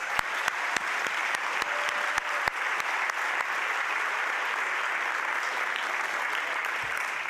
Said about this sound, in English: We also want to give a round of applause for all the elected officials and community leaders here tonight.